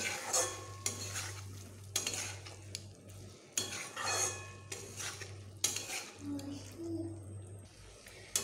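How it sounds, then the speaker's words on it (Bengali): Bitter gourd curry stir-fried in a pan, a spatula scraping and clinking in repeated strokes about once a second over a low steady hum, with a soft sizzle and a voice speaking faintly. "এবার আমি এটাকে বেশ ভালোভাবে কষিয়ে নেব"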